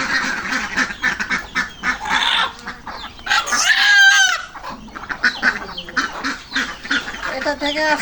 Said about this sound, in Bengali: ঘরের সবচেয়ে বড় যে মোরগটা সেটা ধরে ফেলেছি, সেটা ধরছি।